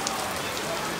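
Heavy rain pours down in a dense, even hiss of drops striking surfaces, continuous and close for a brief moment.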